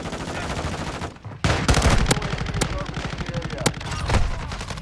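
Pistol and rifle fire ring out in Call of Duty: Modern Warfare II, several sharp separate shots over a rattling burst of automatic fire, loud and close.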